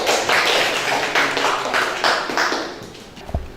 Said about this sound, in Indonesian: tapi sekali lagi tepuk tangan untuk Regi